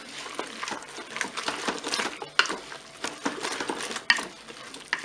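Spoon stirring tomato paste into cooked spaghetti and aubergines inside a Cookeo pot, with irregular scraping and clattering strokes and a couple of sharp metallic knocks, close and fairly loud.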